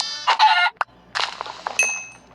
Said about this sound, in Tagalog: Uy, may manok.